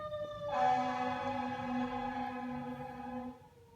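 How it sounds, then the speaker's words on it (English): A passing ambulance siren wails in a steady rising-and-falling tone, fairly loud and alone, holding for about three seconds before cutting off, with low rumbling background noise underneath. "Don't mind that ambulance while crossing by."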